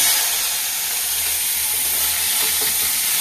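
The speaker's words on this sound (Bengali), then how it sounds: "সর্ষের তেল দিয়ে দিলাম, কালো জিরে দিয়ে দিলাম ফোড়নে, শুকনো লঙ্কা দিয়ে দিলাম, একটু পেঁয়াজ কুচি দিয়ে দিলাম" Nigella seeds, dried red chilli and chopped onion frying in hot mustard oil, a loud, steady, close sizzling hiss that runs without a break, with faint stirring underneath and no voices.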